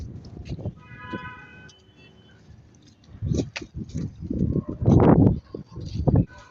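Pigeons on a rooftop cooing in soft bursts with a few chirps, close by, over faint background noise and some passing traffic-like rumble.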